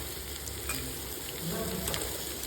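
Bitter gourd sautéing in a pan over a low flame gives a soft, steady sizzle with faint stirring sounds, quiet and close, with no voices.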